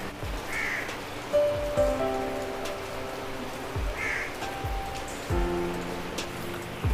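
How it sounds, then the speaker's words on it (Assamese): Heavy early-morning rain patters steadily on surfaces, with crows cawing a few times in the background and no voices. "এতিয়া পুৰা বৰষুণ দি আছে"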